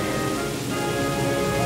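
Steady, dense rain from the video game Pokemon Black, a continuous wash of falling drops with no talking over it.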